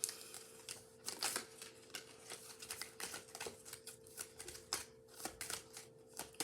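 Tarot cards are handled and drawn from a deck in a series of quick, crisp riffling clicks and flicks, close and quiet, uneven in rhythm, with no speech.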